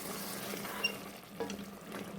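Koftas frying in masala in a pan, a low steady sizzle with a couple of light stirring knocks and scrapes, close and fairly quiet, with no voices.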